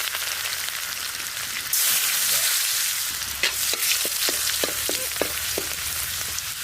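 Dried chilies, radhuni, cumin and garlic drop into hot oil in a village-style Indian kitchen, setting off a sudden loud sizzle that keeps hissing steadily, with sharp little pops and crackles scattered through it.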